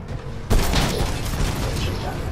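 Gunfire in the mech shooter Titanfall lands as a sudden loud burst and continues as dense, crackling shots over a constant roar of game noise.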